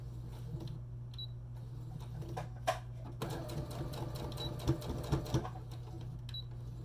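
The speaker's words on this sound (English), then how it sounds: "I am just going to sew right across the tip of this really quick" Sewing machine stitching quickly across the tip of a fabric piece, a faint low motor hum with a short burst of stitching and a few soft clicks, set against quiet room noise.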